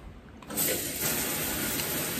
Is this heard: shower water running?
yes